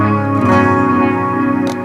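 Electric guitar played through a clean boost pedal with delay and reverb, a sustained chord ringing with long echoing tails and a second soft strum near the end.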